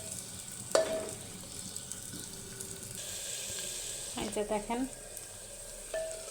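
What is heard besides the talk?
chopped onions frying, stirred with wooden spatula in clay pot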